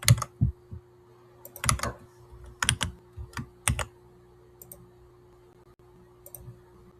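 Bursts of quick clicks from a computer keyboard as someone types in an API key, in short clusters separated by pauses, close and clear over a faint steady hum.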